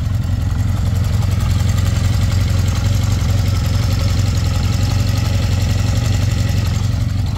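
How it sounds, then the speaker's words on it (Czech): A 1979 Honda CB650 motorcycle engine idles steadily nearby, a low, even throbbing rumble with no voices. "Takhle zní ten motor."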